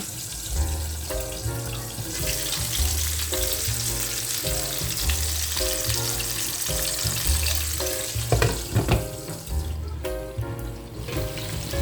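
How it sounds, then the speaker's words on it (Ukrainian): Steady sizzling of chicken thighs frying in a hot pan, a close, continuous crackle with music playing throughout. "Зараз буду смажити курочку на вечерю."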